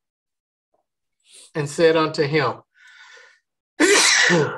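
A single sharp, loud sneeze bursts out near the end, following a man reading scripture aloud, with a fainter breathy sound in the pause just before.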